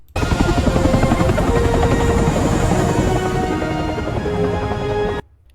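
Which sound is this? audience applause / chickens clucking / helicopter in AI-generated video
helicopter in AI-generated video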